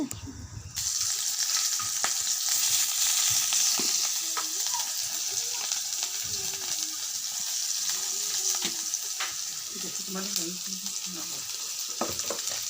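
Boiled cane shoots sizzle and fry steadily in hot oil in a wok with salt, turmeric, onion and mixed spices, a continuous close crackling hiss with occasional stirring clatter throughout.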